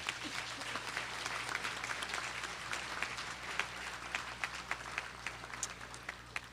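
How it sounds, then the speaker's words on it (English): A warm round of applause rises at the Spring 2024 commencement in LaGrange for those who supported the graduates: steady, distant crowd clapping, fairly quiet, with a low hum under it and a few sharper claps near the end. "Let's give all of you a warm round of applause"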